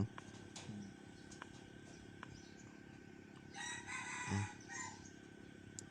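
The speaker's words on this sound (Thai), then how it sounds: "เบื่อเสียงไก่" A rooster crows once, faint and somewhat distant, a drawn-out call over quiet background noise and a few small clicks.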